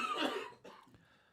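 A single loud cough up close, a harsh burst followed by a weaker second rasp, with no talking around it.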